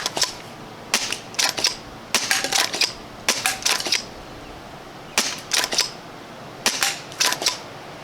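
A Misguided Creations A.L.L.160 blaster fires outdoors at targets in about eight quick bursts of sharp, snapping shots, each cluster followed by a short pause.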